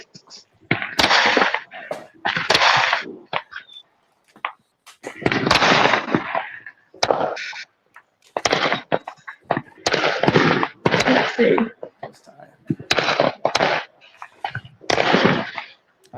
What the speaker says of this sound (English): Let's get some fireworks going on.